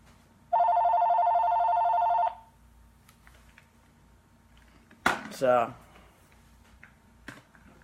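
A telephone rings with one continuous electronic trill lasting about two seconds, clear and fairly close, followed later by a brief burst of speech.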